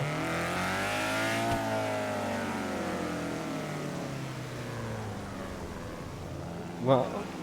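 A car in GTA 5 role-play accelerates hard, its engine note climbing and then falling back, as people talk over it.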